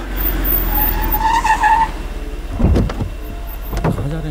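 A car braking hard to a stop in a film scene, tyres squealing and skidding in a couple of sharp bursts after a steady engine drone.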